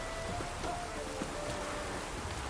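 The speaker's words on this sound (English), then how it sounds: "Looks like rain." Steady rain falling in the video game Witcher 3, a continuous even hiss of drops at low level with no clear thunder, playing on its own.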